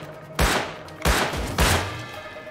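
A pipe shotgun fires in the Rust video game, three sharp booming shots roughly half a second apart, each ringing out briefly over low background game noise.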